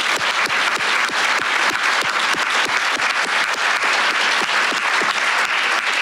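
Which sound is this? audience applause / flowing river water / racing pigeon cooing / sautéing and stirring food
audience applause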